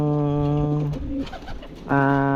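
Pigeons in a loft give deep, resonant, close coos in two drawn-out calls separated by a short gap filled with soft rustling.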